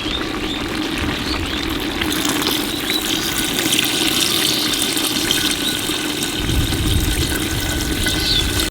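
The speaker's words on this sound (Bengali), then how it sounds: "আর জল দিয়ে দেবো।" Water pours steadily and loudly into a pot of simmering country-chicken curry, a continuous gushing splash with no talk over it.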